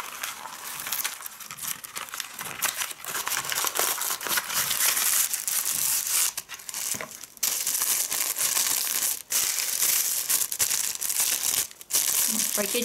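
Plastic packaging from an online order crinkles and crumples steadily and close up, with brief pauses between bursts of rustling; a voice speaks at times over it.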